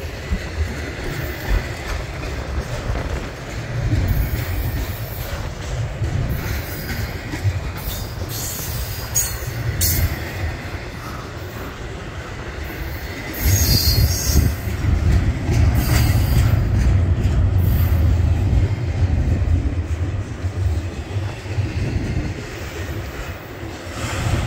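A slow Union Pacific freight train rolling past eastbound, with continuous rumbling, clanking cars and intermittent wheel squeal, loud and close throughout with no talking.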